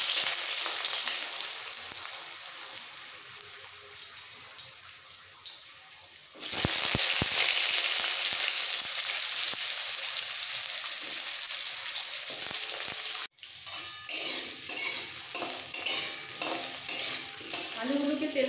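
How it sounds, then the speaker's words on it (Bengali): Potato slices fry in hot oil for aloo posto with drumsticks, giving a loud, steady sizzle that swells, cuts out briefly, then returns with rhythmic scraping from stirring. "আলু স্লাইসগুলো দিয়ে দিচ্ছি।"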